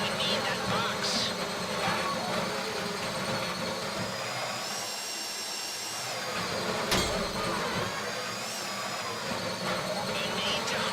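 Drill boring into a bank deposit box in a video game heist, a continuous grinding whine with metallic overtones over a busy background, with voices speaking over it.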